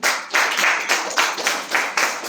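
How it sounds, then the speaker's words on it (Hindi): Loud, steady applause from a crowd, swelling in repeated waves of dense clapping with no voices over it. "एक बार जोरा ताली बजा दीजिए"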